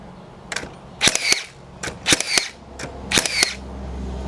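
A Makita 18V cordless framing nailer drives nails through stacked plywood sheets and flashing, firing about six sharp, loud, close cracks at an uneven pace with no talking.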